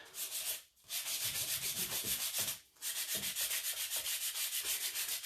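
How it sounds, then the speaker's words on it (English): Sandpaper rubbed in quick, steady back-and-forth strokes along the painted edges of a wooden seed crate to distress the finish, close and clear, with two brief pauses between runs and no talking. "if you rub your sandpaper over it, it just takes the color down a little bit"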